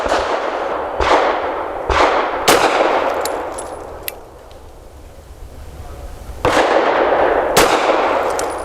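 Several loud, sharp pistol shots from an FN 509 Midsize firing Hornady Critical Duty 135 grain rounds, spaced irregularly about a second apart with long ringing decays and a pause before a final pair.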